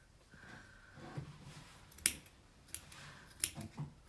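Scissors snipping a yarn tassel to trim it, a few sharp isolated cuts spaced out over quiet room noise, close and crisp.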